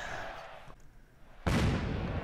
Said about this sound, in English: And the fireworks are going off again for another week on Raw on a Monday